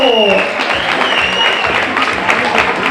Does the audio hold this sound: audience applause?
yes